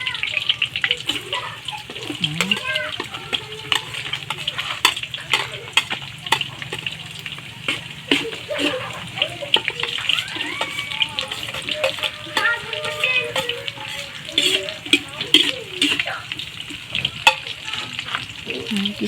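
Onion and garlic sautéing in a pan over a wood fire, a continuous close sizzle with stirring and scraping, loud and crackly throughout, with faint voices in the background.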